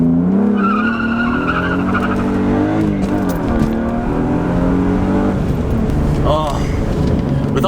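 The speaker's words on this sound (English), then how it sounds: "I think this would be another perfect opportunity to try a launch" A car launches hard from a standstill with tire squeal, heard from inside the cabin with the window partly down: engine revving up through rising pitch, tires screeching, loud and close, with a voice talking over it.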